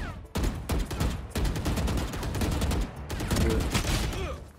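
Rapid bursts of automatic gunfire ring out in a video game shootout during a paid one-on-one match, loud and continuous with short gaps between volleys.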